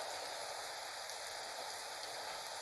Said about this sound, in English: it's just a little rain and thunder